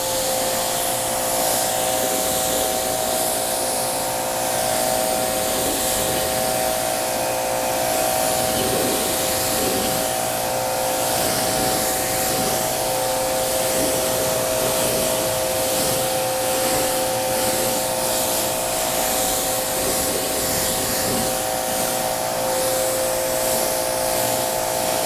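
A car is rinsed with a water sprayer, a continuous loud hiss of spray with a steady motor-like tone beneath it, running without a break and with no talking.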